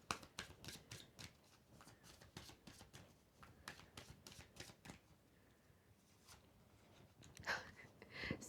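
Tarot cards shuffled by hand in a steady run of quick, crisp riffles and flicks, close and fairly quiet, with a louder burst near the end and no talking.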